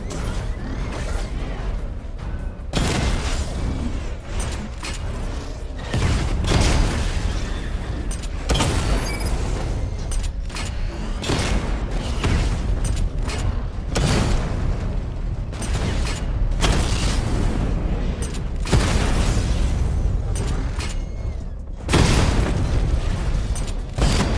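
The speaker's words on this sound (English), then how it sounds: "Charge up missile barrage to level 2 and destroy 4 active targets to complete diagnostic test." Missile barrage explosions in a Batman video game, a relentless run of heavy booms and whooshing blasts arriving in dense bursts with brief gaps, loud and close throughout.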